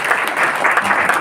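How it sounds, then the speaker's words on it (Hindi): A congregation at a church sermon breaks into applause, a loud, continuous patter of many hands that holds steady through the short moment. "ताली बजाएंगे"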